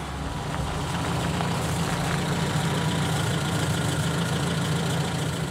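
Inside a Swedish KP armoured car, a loud engine drones steadily with a deep low hum and constant rattling mechanical noise, unbroken and close for the full length with no talking.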